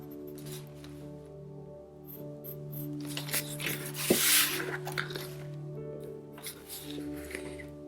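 Colored pencil shading a shell drawing, a soft continuous rasping rub of pencil against paper that comes in uneven strokes and peaks briefly in the middle, heard close and fairly quiet.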